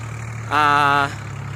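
A used New Holland TT4.55 tractor, fitted for sugarcane planting, idles with a steady low hum throughout, briefly overlaid by a loud, sustained harmonic tone for about half a second.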